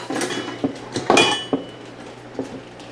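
A few sharp metallic clinks of a metal spoon tapping a pot of boiling berry jelly, spaced irregularly over a low background hum, close and fairly loud.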